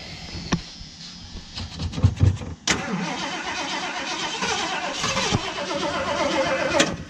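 A salvage-auction car, not drawing fuel from its tank and primed with brake cleaner, cranks in a rapid chugging run for about two seconds, then catches and keeps running loudly and roughly, close up.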